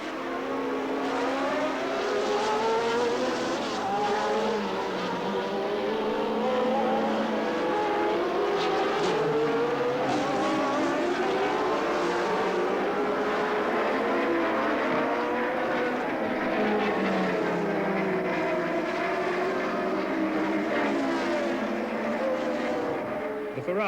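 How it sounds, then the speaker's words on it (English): Several 1982 Formula 1 race cars, a mix of turbocharged and Cosworth-engined machines, scream past in a continuous, loud stream of sweeping engine pitches that rise and fall as they pass, with no talk over them. "For several laps, the racing cars were racing."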